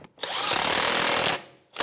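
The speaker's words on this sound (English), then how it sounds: "21mm wrench and socket, and I'm just going to snug it up" A 21mm wrench and socket snug up a strut bolt on a 2009-2014 Nissan Maxima, giving one short, close mechanical whirring burst of about a second between brief quiet gaps.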